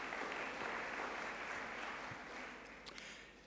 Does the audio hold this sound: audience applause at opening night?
yes